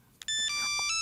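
A telephone rings in a radio drama scene, announcing an international call: electronic ringtone tones start abruptly and ring on steadily, loud and close, with no talking over them.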